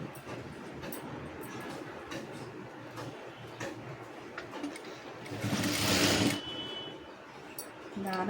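A sewing machine stitches a blouse front in a continuous mechanical hum with faint ticking and a brief louder burst near the end, heard close up with no talking.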